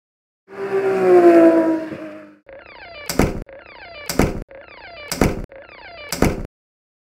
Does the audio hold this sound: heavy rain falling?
no